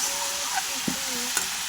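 Fried onion and vegetables dusted with turmeric and salt are stirred in a hot pan, giving a steady close sizzle broken by a few sharp scrapes and knocks of the spoon against the metal.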